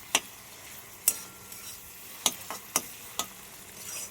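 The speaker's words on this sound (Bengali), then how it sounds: "একটু ভালো করে এগুলো নাড়ানাড়ি করি" Whole spices, onion and ginger-garlic paste frying in a pan, faint soft sizzle punctuated by several sharp spoon or spatula knocks against the pan at uneven intervals, no voices.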